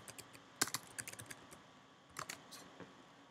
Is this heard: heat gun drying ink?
no